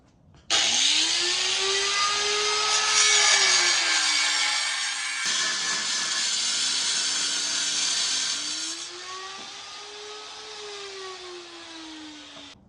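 A Bad Dog Tools cut-off wheel grinds through metal in a loud, steady whine that begins abruptly, its pitch sagging and rising as the wheel bites harder, then easing toward the end.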